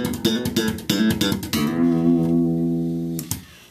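A slap bass groove played at full tempo: a quick run of snappy thumped and popped notes, then one long sustained ringing note and a final pluck, close and solo with no voices.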